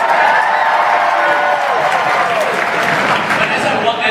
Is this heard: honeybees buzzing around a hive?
no